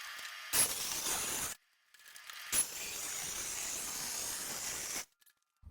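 Sheet steel being cut into a battery box outline for an Allard K3, heard as two harsh, loud bursts of grinding hiss, the first about a second long and the second lasting around two and a half seconds, with a short quiet gap between them.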